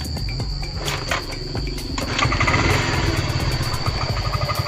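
A motorcycle with a weak battery is kick-started and then catches, its engine settling into a steady idle that grows louder in the second half. The mechanical chatter is close, with a faint high whine running throughout and no talking.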